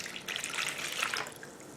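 Water pours into a measuring cup to fill one cup of salted water in a short, close splashing trickle that swells and then eases off.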